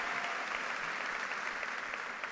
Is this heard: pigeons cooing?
no